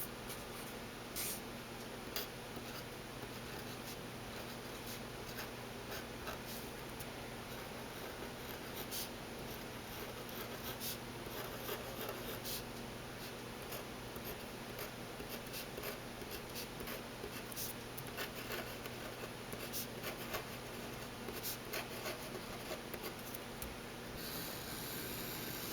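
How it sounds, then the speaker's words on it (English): A Pilot Varsity fountain pen is pressed down heavily on paper and scratches in steady, quiet strokes, faint and continuous over a low room hum with no voices. "So we'll really write heavy on the paper now,"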